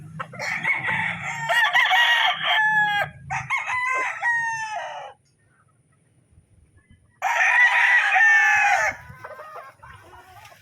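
A gamefowl rooster crows loudly and close, several long hoarse cock-a-doodle calls with a pause, then one more strong crow, a few clucks in between.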